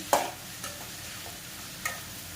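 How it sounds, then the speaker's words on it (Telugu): Tomato curry ingredients fry in a pan on the stove, giving a soft sizzle under a few sharp scrapes and clinks of a stirring spoon, quiet and close. "ఫ్లేమ్లో పెట్టుకొని మనం ఇది కొంచెం ఫ్రై అయ్యేంత వరకు చూసుకోవాలి"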